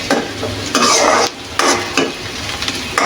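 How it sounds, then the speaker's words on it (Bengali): Onions fry in hot oil for a Bengali potato and egg curry, loud close sizzling broken by bursts of stirring and scraping as a spoon works through the pan. "পেঁয়াজটা ভেজে নেব। এটা একটু লাল করে ভেজে নেব।"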